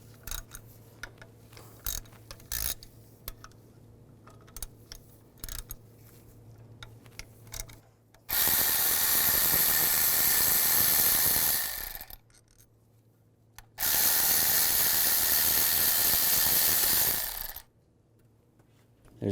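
A ratchet with a 10mm socket backs bolts out of a bracket on a 2002-2009 Chevy Trailblazer during a timing chain job. Scattered light clicks are followed by two sustained, loud bursts of rapid ratcheting.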